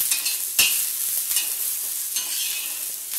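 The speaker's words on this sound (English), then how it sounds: "So first we are going to fry the filling, which is capsicum," Capsicum and onion filling for a Schezwan paneer wrap frying in a pan, a steady close sizzle with a few sharp scraping stirs of the spatula, no talking.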